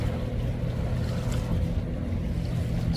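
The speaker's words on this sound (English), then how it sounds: "there's a boat." Boat out on the water, a constant low motor drone mixed with wind noise and soft surf, steady throughout and somewhat distant, no one speaking.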